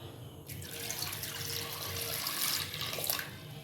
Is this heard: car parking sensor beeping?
no